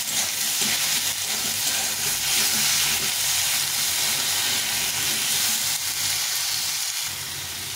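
Chilli powder, salt and turmeric sizzle steadily in hot oil in a pan, a continuous bright frying hiss with faint stirring scrapes throughout.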